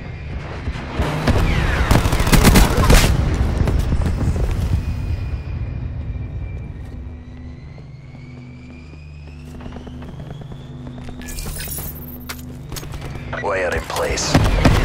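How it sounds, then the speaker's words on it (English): A sentry turret in Call of Duty: Black Ops 4 lets out loud bursts of rapid gunfire at the start and again near the end, with a tonal mechanical whine and low droning hum between the bursts. "Sentry turret powering up."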